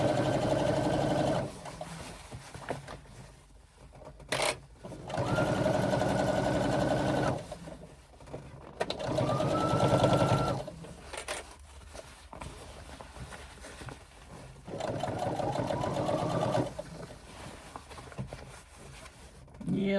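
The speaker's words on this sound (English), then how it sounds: "I'm sewing 1/8 of an inch all the way around here at the top" Sewing machine stitching an eighth-inch seam around the top of a swim bag, running in repeated bursts of a few seconds each, separated by brief pauses and handling clicks, close and fairly loud with no talking.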